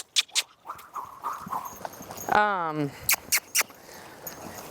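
A horse walking, its hooves clip-clopping in a few sharp separate strikes close by, with a short voice heard between the steps.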